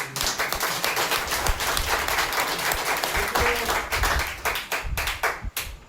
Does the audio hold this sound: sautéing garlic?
no